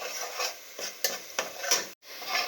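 Onions and garlic frying in a cooking pot for pilau rice, with soft sizzling under repeated sharp scrapes and clinks of a spoon stirring against the pot.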